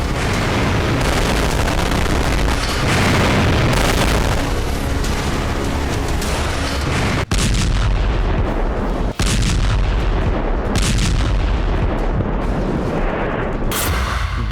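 Test explosion of a B-61 family nuclear bomb dropped from an F-35 fighter jet: a loud, sustained roar of rumbling blasts and booms, with two abrupt cuts partway through and no voices.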